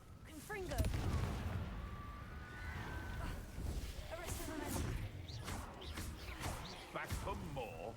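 Confringo blasting spell cast in a Harry Potter video game, punchy explosive bursts and magical whooshes amid combat effects, with voices shouting over the action.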